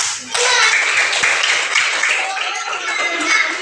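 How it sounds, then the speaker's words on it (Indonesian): Classroom students clapping together for their classmates' group work, a dense burst of applause starting after a brief lead-in and continuing loudly to the end. "Tepuk tangan untuk teman-teman semua."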